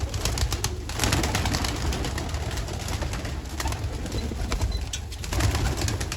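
Pigeons coo steadily at close range inside their coop, a low rolling murmur with occasional wing flutters and no talking.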